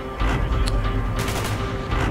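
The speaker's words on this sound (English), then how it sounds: "Gunfire's drawing attention." Gunfire in the Call of Duty Black Ops campaign on Xbox One, a dense continuous rattle of shots and bursts with booming layers, loud and sustained throughout the short stretch.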